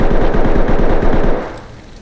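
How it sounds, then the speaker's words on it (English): Loud, continuous automatic gunfire in a video game, a dense rapid burst lasting over a second before trailing off. "They're shooting."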